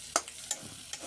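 Potato, eggplant, stems and onion frying in oil, with a few sharp stirring scrapes against the pan over a low steady sizzle.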